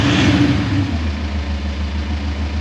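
A VW Amarok engine through a Kufatec exhaust sound booster gives a short loud rev that falls back to a steady low idle rumble, close and alone.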